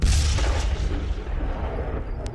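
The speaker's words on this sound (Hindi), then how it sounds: "इजरायली सेना यहां लगातार एयर स्ट्राइक के साथ आर्टिलरी सेलिंग कर रही है।" Israeli army artillery shelling in Lebanon's Bekaa Valley, heard as a continuous heavy low rumble with a dull boom near the start and sustained thudding resonance throughout.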